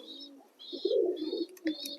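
Pigeons in a loft coo in low, throaty bursts several times, close by, with faint high chirps and rustling in between.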